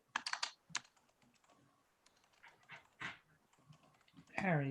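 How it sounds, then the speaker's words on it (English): A dog barks a few times somewhere in the room during an online council ethics meeting, short faint yaps near the start, with quiet talk and keyboard typing around it. "Dog is barking."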